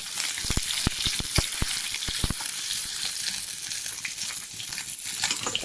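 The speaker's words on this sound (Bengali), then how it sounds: "সব মাছ এক এক করে ভাজবো" Mixed fish pieces fry one by one in hot oil, a close, steady sizzle broken by a run of sharp spatters and pops in the first half that fade into continuous crackling.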